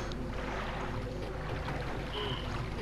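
Water sloshing and lapping around a moving boat in Silent Hill New Edition, a steady wash of sound with a faint breezy hiss over it.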